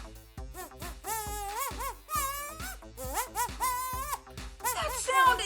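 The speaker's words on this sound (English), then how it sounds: "blow through your kazoo." A homemade kazoo of craft sticks and a rubber band is blown in several short buzzy bursts with bending, wavering pitch, close and fairly loud.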